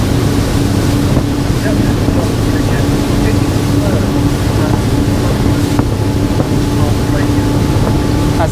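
A 2007 Sunseeker Superhawk 43 motorboat runs hard and loud under steady engine roar. Heavy wind buffets the microphone and a voice can be heard faintly underneath.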